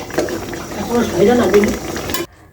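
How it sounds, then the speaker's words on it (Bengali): A splash of water goes into a home-cooked curry of broad beans and chicken, setting off a loud bubbling sizzle that runs steadily and then cuts off abruptly. "অল্প একটু পানি দিয়ে দিচ্ছি।"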